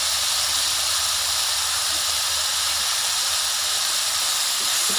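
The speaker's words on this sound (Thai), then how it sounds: "แล้วก็ผัดให้เข้ากัน" Eel and red curry paste stir-fry in a hot pan, giving a loud, steady hiss and sizzle that fills the whole stretch without pause.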